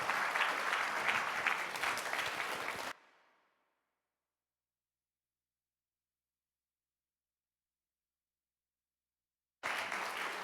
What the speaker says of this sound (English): I think we all owe Mark and Sherry a round of applause.